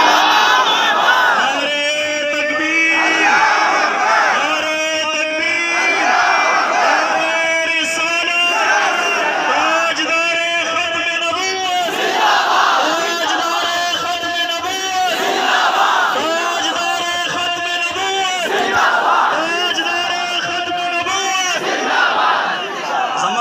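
A large outdoor rally crowd in Peshawar chants a religious takbir slogan in loud, rhythmic unison, repeated call-and-response bursts of massed voices rising and falling over about twenty seconds.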